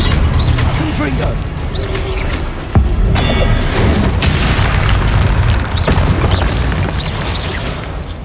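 Explosive spell blasts in the video game Hogwarts Legacy: a dense, loud run of booms and crashes with sharp bursts and debris, surging over roughly eight seconds of continuous game noise, with a voice speaking under the blasts.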